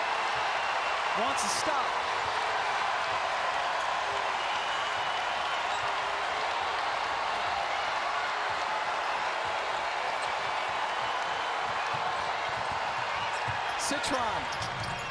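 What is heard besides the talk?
basketball arena crowd cheering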